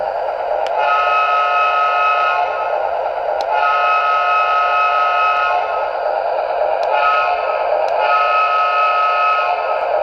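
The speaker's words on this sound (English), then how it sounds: "This is the horn." A small electronic horn from a Lionel New York Central RS-3 model train starter set sounds in repeated long chord blasts, loud and close, with brief clicks between them.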